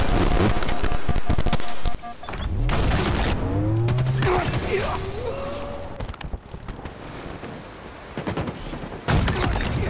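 Gunfire in the video game Halo Infinite, including sniper rifle shots: sharp loud bursts and rapid shot sequences mixed with game effects and swooping tones.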